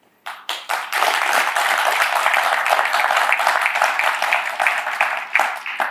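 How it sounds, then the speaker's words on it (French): Audience at a Congolese charity ceremony breaks into applause, a few scattered claps quickly swelling into sustained, dense clapping that holds steady and loud throughout. "Je vais les saluer avec des applaudissements."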